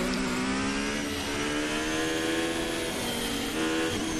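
A Formula 1 car in a racing video game on the Sachsenring circuit, its engine holding a loud, steady, high-pitched whine with dense harmonics throughout, no voices.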